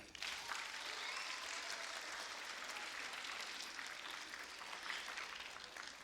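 Steady applause from an audience at a school moving-up ceremony, a dense wash of many hands clapping continuously at moderate distance, fading slightly near the end.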